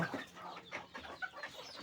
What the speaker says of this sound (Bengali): মুরগিরা খুব ডাকাডাকি করতেছে